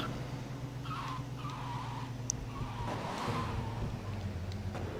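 A truck races in the video game GTA Vice City Stories, its engine droning steadily under a long, wavering tire squeal that swells and fades throughout.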